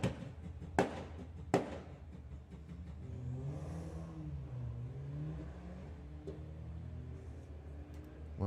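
A VW Scirocco and an Audi A3 launch in a drag race at Santa Pod: two sharp bangs, then engines rev and pull away, rising and falling in pitch at a moderate distance before a final crack.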